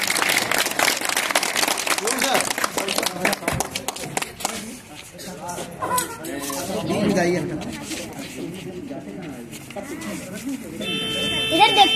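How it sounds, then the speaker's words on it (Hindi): Group clapping at a farewell gathering, loud dense patter in the first seconds that thins out, with a speaker talking over it and a buzzing tone near the end. "सब लोग ताली बजाइए भाई देखिए"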